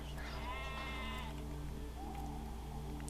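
Sheep bleat in the game Poseidon: Master of Atlantis, one clear wavering bleat near the start followed by a softer bleat, over a steady game background hum.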